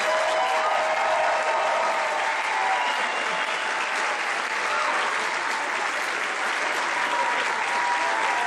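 A concert crowd applauds a trumpet player after a jazz performance at a Music In The Schools event, a loud, dense, continuous roar of clapping with some cheering mixed in, sustained evenly throughout.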